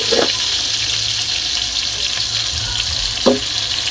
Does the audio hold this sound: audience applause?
no